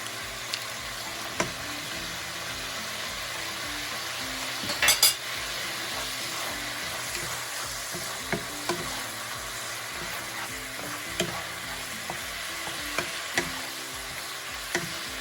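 Butter and Dungeness crab sizzle steadily in a hot pan during Cantonese-style home cooking, with a scrape of stirring and occasional clinks of utensil against the pan running throughout.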